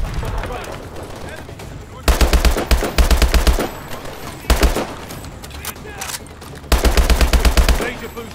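Rapid automatic gunfire crackles in loud bursts during a Call of Duty Advanced Warfare firefight, with three or four long volleys broken by short pauses over a dense battle-noise background.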